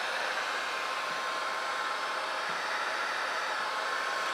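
A heat gun blows hot air over poured acrylic paint, producing a steady, unbroken rushing hiss at constant level throughout.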